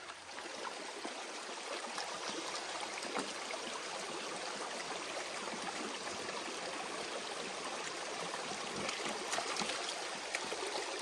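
Water runs into a 5-gallon pail being filled about halfway at a gold prospecting site, giving a continuous, fairly close rushing trickle that holds steady from start to finish with no voices.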